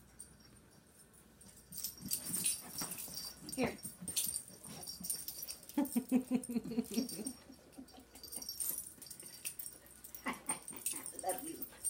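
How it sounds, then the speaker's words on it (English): A dog whimpering and yipping with sharp barks mixed in, restless and close by over roughly twelve seconds of indoor noise. "Why is she barking at Jack?"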